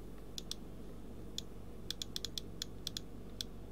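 Computer mouse clicks at a desk while working in the Easy Red 2 map editor: about a dozen sharp, faint, close clicks in irregular bursts over a low steady hum.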